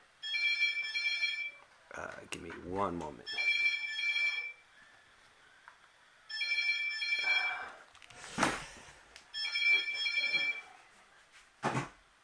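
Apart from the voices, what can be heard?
cell phone ringing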